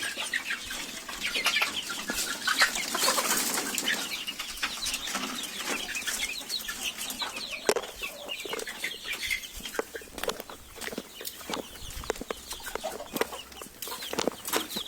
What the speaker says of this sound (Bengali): খাঁচাগুলা সম্পূর্ণ তিনতলা বিশিষ্ট দেখেন ফার্মি মুরগিগুলো